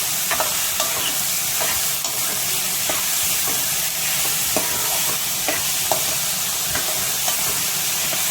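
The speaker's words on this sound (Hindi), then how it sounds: "अब हम डालेंगे इसमें प्याज जो काटी हुई है। ये मैंने ना 2 प्याज ही काटी है" Chopped onions and garlic sizzle in a hot pan, a steady frying hiss broken by scattered clicks and scrapes of stirring, with no talking.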